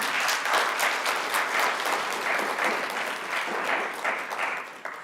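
Audience at an MLK celebration event applauding the contest judges, a steady wash of many hands clapping at even loudness throughout, with no voices over it.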